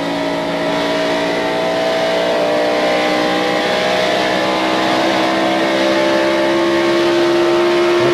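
NASCAR stock cars roar past at speed during the 1997 UAW-GM Quality 500, a loud, sustained engine drone with rising and falling pitch as cars pass, with no talk over it.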